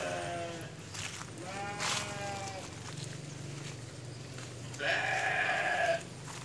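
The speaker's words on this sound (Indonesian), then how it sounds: "Ini ternaknya adalah domba." Sheep on an Indonesian farm being offered indigofera fodder bleat several times, a few clear harmonic calls standing out near and loud against a steady background hum.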